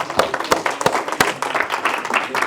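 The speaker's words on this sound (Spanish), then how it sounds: "Dale un fuerte aplauso al Rey de Reyes." Congregation applause at a church service, a short dense burst of clapping with sharp individual claps standing out, under some voices.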